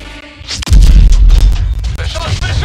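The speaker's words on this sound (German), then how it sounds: "Beschuss, Beschuss!" Artillery shelling in the Call of Duty: Infinite Warfare video game: a heavy booming impact followed by rumbling blasts and crackling debris, loud and close, mixed with shouted voices.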